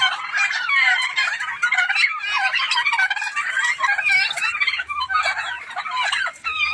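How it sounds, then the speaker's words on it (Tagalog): A flock of turkeys gobbling and chickens clucking together, a continuous busy chatter of overlapping calls close at hand. "paikot-ikot yung mga pabo tsaka manok"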